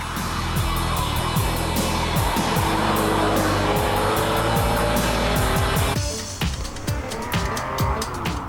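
Lamborghini Diablo GT lapping a race track, its engine roaring loud and close with rising and falling revs, gear changes and brief tire squeal, then the note drops sharply as the car backs off near the end.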